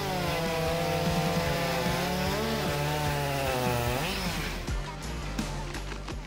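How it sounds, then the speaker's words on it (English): Husqvarna 572XP and Stihl MS462C chainsaws cut through wood with a loud, continuous high-revving buzz, the engine pitch rising and dipping as the chains bite, close and alone without talk. "Let's watch the competition between two wood saws, Husqvarna 572XP and Style MS462C"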